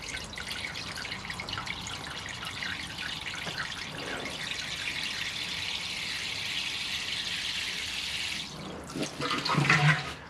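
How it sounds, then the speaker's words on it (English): Portulacaria afra cuttings being rinsed with water in a bowl, a steady splashing, trickling wash that runs throughout and grows louder with a burst of sloshing near the end. "which I'm just going to rinse off in our Let's Do Bonsai bowl"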